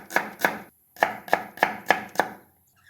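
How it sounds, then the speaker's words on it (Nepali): A knife chopping an onion into fine pieces on a board, seven crisp close strokes in two quick bursts with a short pause between them. "प्याजलाई चाहिँ मसिनो टुक्रा बनाएर काट्नु पर्यो"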